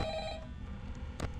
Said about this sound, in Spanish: El teléfono.